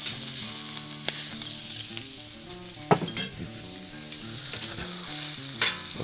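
Pulled pork and eggs sizzle steadily on a flattop griddle, a continuous loud frying hiss with scraping and stirring clatters from a spatula.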